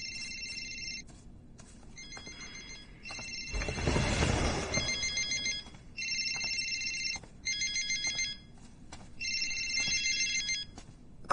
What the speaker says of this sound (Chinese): 孔董，您看这电话